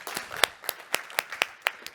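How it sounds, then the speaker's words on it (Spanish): Sparse, faint clapping from a small audience at a sustainability summit conference, with fairly regular distinct hand claps about four per second rather than a full ovation. "Un aplauso, por favor."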